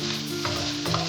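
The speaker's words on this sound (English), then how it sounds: "Stir fry the ketchup and chili sauce fried rice" A pan sizzles steadily over high heat as fried rice with ketchup and chili sauce is stirred and tossed, with light scraping clatter over the constant frying hiss.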